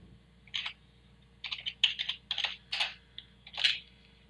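Sharp plastic clicks from a computer mouse used in Holter cardiology software, arriving in quick pairs and singles, close and crisp over a faint steady hum.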